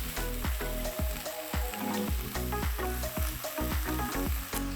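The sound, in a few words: sausages and bacon frying in a pan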